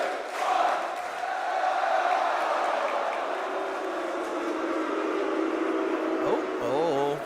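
An esports arena crowd at a Rainbow Six Siege Manchester Major quarterfinal boos in a sustained, loud, broad roar that holds for several seconds before fading toward the end.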